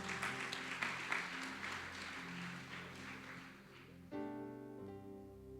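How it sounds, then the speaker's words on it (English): Audience applause at a closing ceremony for a local government chairman, a dense crowd of clapping that fades over several seconds before a background tone takes over. "Please give him a round of applause as it comes up."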